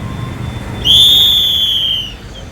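One loud, close whistle blast held for about a second at a street protest condemning the murder of a woman doctor in Kolkata, with quiet crowd noise around it.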